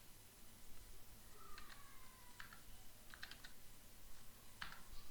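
Quiet typing on a computer keyboard while writing in MS Word, scattered clusters of soft key clicks with pauses between them, close and faint with no talking.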